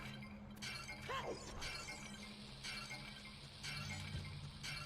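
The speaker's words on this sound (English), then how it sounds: "Oh, are we still hearing the pot shattering?" A clay pot shatters in a Zelda-style video game challenge, a brief crisp break with glassy clinks over quiet game background noise.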